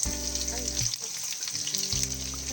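Onion and garlic sizzle as they sauté in a pan, a steady frying hiss with a low humming drone coming and going underneath, close and without speech.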